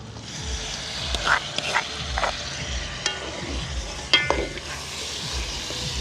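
Cashews fry in oil in a pan during village wedding-style curry cooking, with a steady close sizzle broken by scraping stirs and a few sharp clinks of the ladle against the metal.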